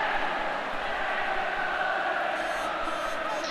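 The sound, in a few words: football crowd celebrating after a play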